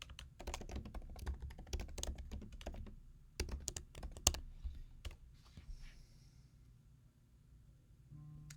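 Quick bursts of typing on a computer keyboard, clattering key clicks in uneven runs with short pauses, fairly close and quiet, then tapering off.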